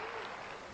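Brief burst of audience applause, a dense wash of clapping heard faintly from a distance and lasting under a second.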